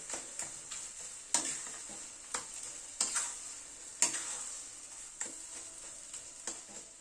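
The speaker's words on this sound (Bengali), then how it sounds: "নুন হলুদ দিয়ে এবার শিমটাকে ভালো মতো কষাবো" Flat beans stir-fried with salt and turmeric in a pan, a soft sizzle broken by repeated scraping, tapping spatula strokes at an irregular rhythm, fairly quiet and close, without speech.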